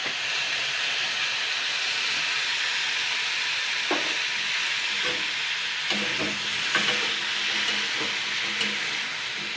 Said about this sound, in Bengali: আলু আর পেঁয়াজ কলি যা যা দিয়েছি, টমেটো, এগুলো কিন্তু আমি একসঙ্গে একটুখানি ফ্রাই করে নেবো আগে